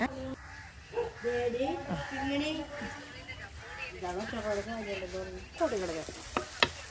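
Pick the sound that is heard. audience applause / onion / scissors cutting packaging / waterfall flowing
onion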